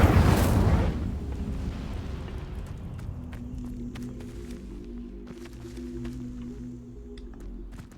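An Incendio fire spell goes off in Hogwarts Legacy with a loud whooshing burst of flame up front, fading into quieter game ambience and faint clicks.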